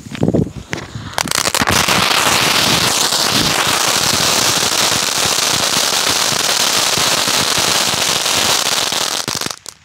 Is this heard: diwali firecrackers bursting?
yes